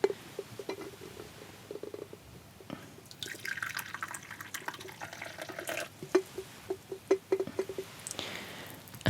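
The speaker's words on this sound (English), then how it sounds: "I'm just going to put a little bit of cold water in because it is just off the boiled water" Cold water trickles and drips into a cup of freshly brewed tea in a quiet indoor setting, soft splashes and small gurgles building in uneven bursts, close and delicate.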